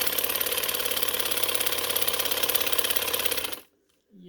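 A sewing machine stitches a ladies' summer trouser, running in a fast, even, close rattling stream for several seconds before abruptly stopping into near silence.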